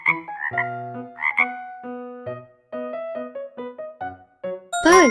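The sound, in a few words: frog croaking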